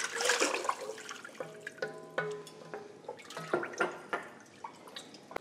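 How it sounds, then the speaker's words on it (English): Tomato sauce and broth poured into a soup pot, giving liquid splashing, glugging and dripping in uneven bursts, close by and moderately loud, with some clinking. "I'm gonna go ahead and get my tomato sauce into the pot, along with my broth."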